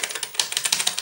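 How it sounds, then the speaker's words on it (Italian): Keys on a Philips VG-8020 MSX computer keyboard with a faulty key are tapped in quick succession, a close, rapid run of crisp plastic clicks with no talking. "adesso serve da fare una prova un po' banale di tutti i tasti, perché c'è la tastiera che non va"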